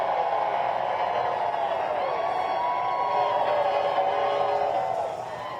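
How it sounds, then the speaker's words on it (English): Canes fans cheer outside Lenovo Center after a win, a sustained, dense crowd roar with chant-like tones that eases off near the end. "watch the moment Canes fans cheered outside Lenovo Center as crews raised the 14th warning flag after last night's win"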